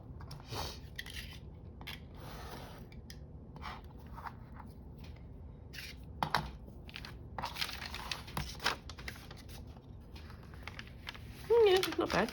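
Paper trimmed for a junk journal with scissors, giving scattered snips, crinkles and rustles close by, interrupted by talk.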